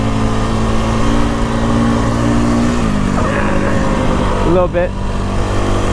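KTM 525 dual sport motorcycle engine pulling hard in third gear, a loud steady drone with rising revs and a sharp shift near the end, with a voice briefly speaking over it.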